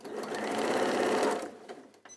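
A sewing machine runs steadily for about a second and a half, stitching through fabric for a pleated piece, then stops; a few faint clicks and snips follow in a quiet room.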